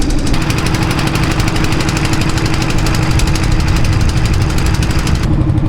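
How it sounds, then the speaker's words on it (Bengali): A motor boat engine on the Meghna river runs loud and close with a steady, rapid chugging throb that continues unbroken to the end. "উনি বসে আছেন নৌকায় এবং নৌকা চালাচ্ছেন"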